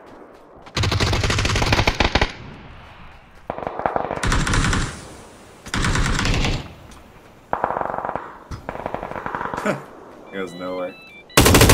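Rapid automatic gunfire from a PUBG match: several loud, sustained bursts separated by short pauses, with teammates talking over and between them.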